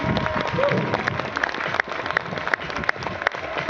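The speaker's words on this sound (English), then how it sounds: "First round of applause, guys." A crowd at a mountain bike trials show at the Devon County Show claps outdoors, mixed applause with a few sharper individual claps standing out, steady and fairly close, with some voices under it.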